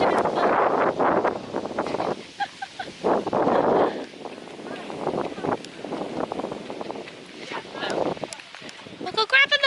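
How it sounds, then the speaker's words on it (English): Gusty wind buffeting the microphone outdoors at a farm, loud rumbling bursts coming and going, with people talking at times. "It's a bit windy."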